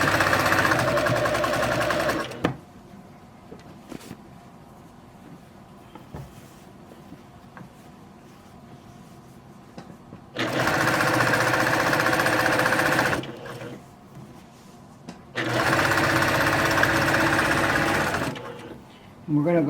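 A sewing machine hums loudly in three sustained runs while stitching lofty cardigan fabric close to the seam edge, with quieter pauses and speech between the bursts.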